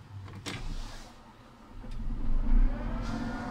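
A JCB Fastrac tractor engine cranking and catching, then idling with a low rumble that swells as the throttle is blipped, close and moderately loud with no talking.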